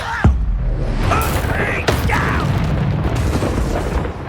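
Deep booming blast of the Confringo fire spell in Hogwarts Legacy on Xbox Series X, a loud low explosion followed by rumbling crackle and a shouted incantation over the din.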